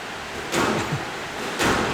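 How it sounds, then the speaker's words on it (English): Heavy rain drums on the roof over an indoor squash court, a steady dense hiss throughout with two louder surges and a few thuds from play. "It's very heavy rain on the roof."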